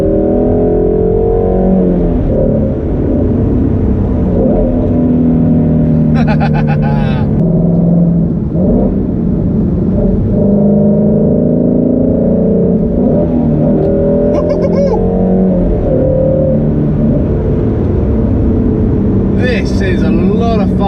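A Shelby GT350 engine rumbles and revs, its pitch rising and falling, while a person talks over the continuous engine noise.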